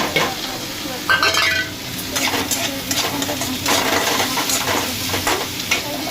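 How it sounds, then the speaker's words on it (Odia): Onions frying with ground spice paste in a pan, a loud, close sizzle with stirring scrapes and clinks of a utensil against the pan throughout. "ଦେଖନ୍ତୁ ଆମ ପିଆଜ ଭଜା ହେଉଛି।"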